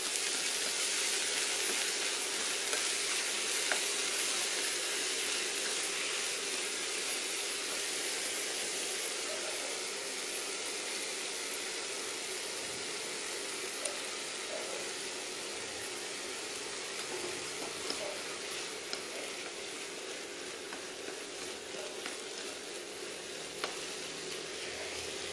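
Food stir-frying in a hot pan with seasoning and a splash of water added, a continuous loud sizzle and hiss with faint scraping of stirring, steady throughout with no talking.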